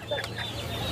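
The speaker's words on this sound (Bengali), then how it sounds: "দেশে এটা পাহাড়ি মুরগি এটি" A hill chicken at a poultry market gives a single quick cluck, close and brief, over a low market murmur.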